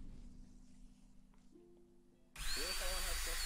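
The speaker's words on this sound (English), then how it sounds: "He turned the drill on." A power drill switches on partway through, a loud steady whine jumping in abruptly after a quieter stretch of room noise and faint talk, then running continuously.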